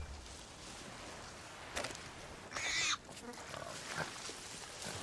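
A pig in the pirate game Sea of Thieves grunts and snorts, with a sharp squeal-like burst in the middle among quieter game noise.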